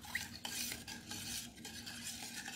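A spoon stirs salt into a bowl of pani puri water, giving a steady, close scraping and swirling with light clinks of metal against the container, alone without any talking.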